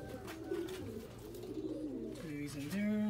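Pigeons coo in a backyard loft, soft repeated low burbling calls close by, mixed with faint rustling and background noise.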